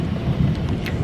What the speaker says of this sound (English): Obviously there's still like a lot of rain and it's still thundering quite a bit